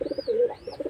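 A domestic pigeon, newly placed with a mate for pairing, gives soft, low, throbbing coos in a short burst, close and quiet.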